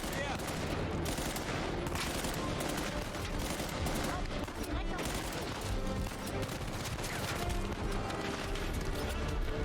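Rapid bursts of gunfire in Uncharted 4, dense overlapping shots and automatic fire crackling nonstop throughout, loud and busy.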